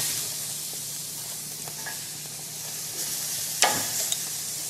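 Lamb sizzles on a Capital Culinarian gas barbecue grill with a steady, close hiss of frying fat, broken by a few faint clinks and one sharp metallic tap near the end.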